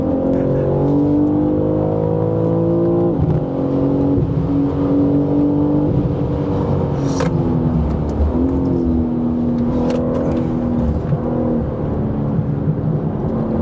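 A BMW M3 CS (G80) engine drones and revs continuously from inside the cabin on a track, pitch climbing through gear shifts with brief dips between.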